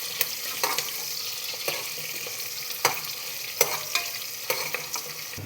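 Onions sautéing in a pan, a steady soft sizzle with repeated sharp scrapes and taps of a spoon stirring, close and alone without voices.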